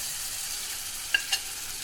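Onions, ginger, garlic and spices frying in a pan for mash daal give off a soft, steady sizzle, broken by two brief clinks of stirring.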